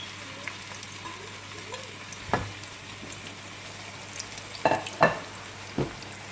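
Onions frying in a couple of tablespoons of oil make a faint, steady sizzle, broken by a few sharp clicks and scrapes from a stirring spoon against the pan.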